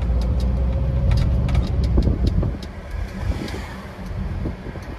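Engine of a vintage VW Bulli van drives through Hamburg streets, a close, steady mid-pitched rumble with light rattles and ticks that eases slightly partway through.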